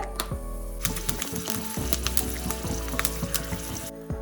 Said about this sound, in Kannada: ಈಗ ಒಲೆ ಹಚ್ಚಿ ಈ ಒಗ್ಗರಣೆ ಚೆನ್ನಾಗಿ ಕಾಯಿಸ್ಕೊಳ್ಳೋಣ ಇವಾಗ ಒಂದು ಸ್ವಲ್ಪ ಹಿಂಗ್ ಚೆನ್ನಾಗಿ ಹಾಕೋಣ